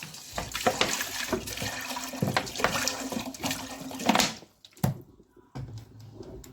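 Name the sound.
tap water running into a cooking pot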